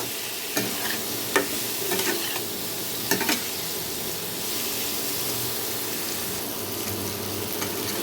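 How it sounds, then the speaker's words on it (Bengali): Young jackfruit pieces fry lightly in oil in a pan, a continuous soft sizzle broken by a few sharp scraping stirs early on, fairly close and steady with no talking. "ইঁচড়গুলোকেও কিন্তু আমি খুব হালকা করে একটু ভেজে নেব"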